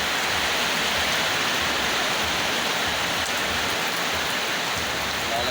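Steady heavy rain pours down outdoors, a dense continuous hiss of drops falling without a break.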